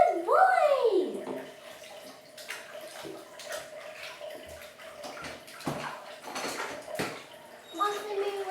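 Bathwater sloshes and splashes in a tub while a cat is being bathed, with a rising animal cry at the start, scattered knocks and clatters, and intermittent talking nearby.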